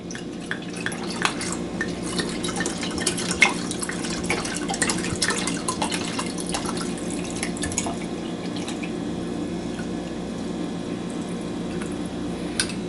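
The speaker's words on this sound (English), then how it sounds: "let's go ahead and pour this in carefully" Dragonfire Punch is poured carefully into a container, producing a steady trickling, splashing pour with small clinks and drips throughout, fairly close and alone with no talk.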